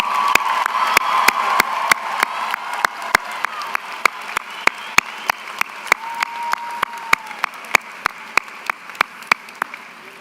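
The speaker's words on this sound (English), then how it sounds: "please show your appreciation to them with resounding applause." A large crowd at a university commencement ceremony applauds steadily, dense clapping with a few sharp, loud claps standing out near the front, no speech over it.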